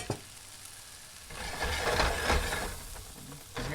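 Vegetables drop into a hot pan of olive oil and set off a soft sizzle that swells and then settles into a steady, faint hiss, with a stir or scrape near the end.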